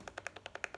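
Loose roller skate wheel rattling as the skate is shaken, giving a quick run of about eight light, evenly spaced clicks within under a second, close up and fairly quiet.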